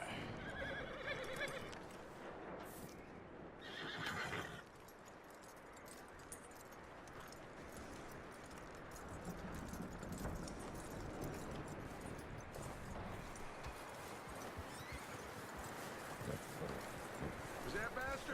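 Horse in Red Dead Redemption 2 whinnying and moving with hoof clip-clop over wind noise, a busy sustained soundscape with speech-like activity mixed in.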